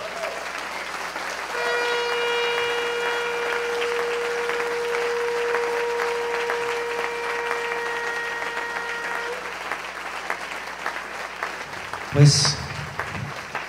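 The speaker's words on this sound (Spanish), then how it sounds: "Denle un fuerte aplauso al Señor" Church congregation applauding the Lord during a worship service, a steady wash of clapping running under a held keyboard chord, with a voice briefly speaking near the end.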